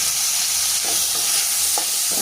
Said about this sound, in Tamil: இப்போ தக்காளி பழம் நல்லா வதங்கிட்டு இதில் கொஞ்சமாக மஞ்சள் தூள் சேர்க்குறேன்